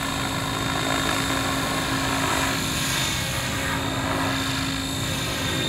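A radio-controlled model helicopter, a Tron 7.0 Dnamic, whirs steadily in flight throughout, a constant droning buzz with a high whine, fairly close, with no one talking.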